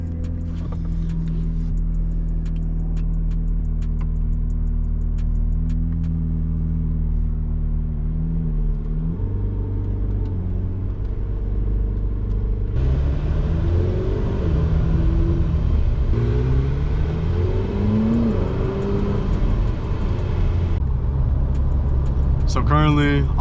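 A 2024 McLaren 750S supercar engine, modified, rumbles steadily with low drone, then revs and shifts through gears as it drives, loud and close throughout.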